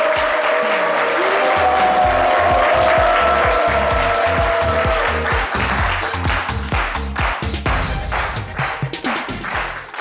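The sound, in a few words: studio audience applause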